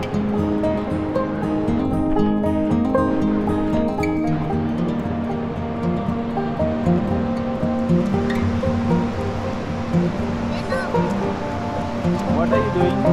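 Surf washing onto a long, empty stretch of beach at low tide, heard as a steady, broad wash of waves that runs the whole time, with voices talking over it.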